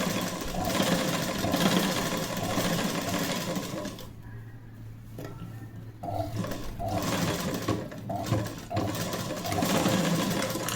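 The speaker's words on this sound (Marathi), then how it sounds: "अशी शिलाई मारायची. एकावर एक शिलाई मारायची म्हणजे कसं उसवत नाही" A sewing machine runs steadily, stitching fabric piping in overlapping double seams, its loud continuous whirring motor pausing briefly midway before resuming.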